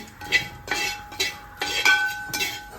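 Spoon scraping and clinking in a pot while stirring sun-dried bilimbi pickle, several light metallic taps and scrapes in an uneven rhythm, close and moderately quiet.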